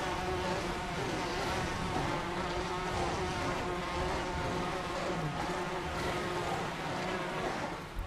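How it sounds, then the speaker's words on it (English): An insect hive in the video game Path of Titans gives off a dense, continuous droning buzz, steady and close throughout with no talking. "this insect hive."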